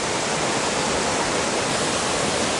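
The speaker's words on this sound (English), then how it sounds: "because it's wider here, the water slowed down a bit and it doesn't look too deep" Rushing river water at a trail crossing where the channel widens and slows, a steady, dense, close-up roar of flowing current with no break, unaccompanied by voices.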